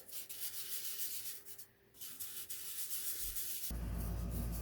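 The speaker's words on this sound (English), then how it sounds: "let's go ahead and grab us some 800 sandpaper" Steady rubbing scrape of 800-grit sandpaper worked over a model kit part, continuous and close, with a short pause partway and a louder, rougher burst toward the end.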